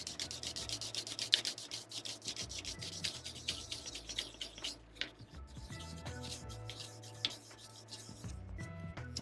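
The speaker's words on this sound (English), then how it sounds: "just to kind of even the joints as much as we can. Use some fine sandpaper here." Fine sandpaper rubbing over the joints of a plastic Bandai 1/144 HG model kit, a steady run of close, soft rasping strokes with no talking.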